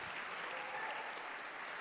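Audience applause fills a Heritage Foundation event hall, a dense, steady wash of many hands clapping at close range, sustained evenly without voices breaking through.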